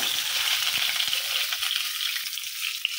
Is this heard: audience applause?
no